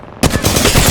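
Loud, close automatic gunfire in Apex Legends, a dense rapid burst starting abruptly and continuing to the end.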